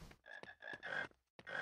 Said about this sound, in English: I guess I can get the frogs.